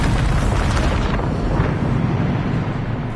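The Bombarda blasting spell in a Hogwarts video game sets off a loud, rumbling eruption of noise that swells over the first second and fades gradually into a sustained roar.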